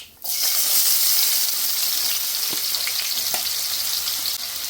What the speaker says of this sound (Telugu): సన్నగా తరిగి పెట్టుకున్న ఆనియన్స్ కూడా వేసేస్తాం అండ్ స్వీట్ని కూడా చక్కగా లైట్ బ్రౌన్ కలర్ వచ్చేదాకా వేపేసుకుందాం